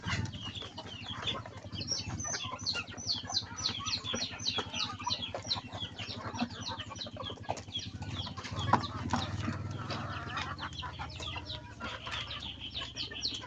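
Chickens and ducks at feeding time cluck and chatter constantly, nearby and fairly loud, with rapid overlapping calls. A low rumble and occasional wing flaps sit underneath.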